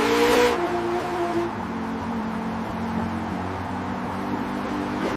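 A new car's engine idling and humming steadily, a low continuous drone with a brief higher tonal whine at the start, close by.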